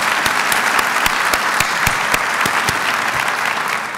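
Audience at a university State of the University address giving a round of applause, loud dense clapping with a few sharp individual claps cutting through, steady throughout.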